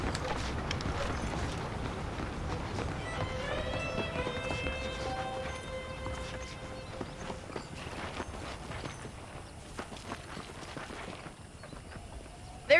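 Horses gallop with a steady clip-clop of hooves in a Red Dead Redemption western setting, continuous and fairly close, with a musical melody and occasional sounds layered over the hoofbeats.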